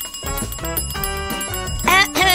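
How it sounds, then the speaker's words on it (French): A hand bell rings loudly and close, its bright tones repeating in a rapid run with a higher, sharper flourish near the end. "je vais utiliser la cloche"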